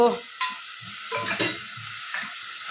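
Fish sukka frying in a pan, a steady close sizzle with occasional scraping stir strokes, no voices.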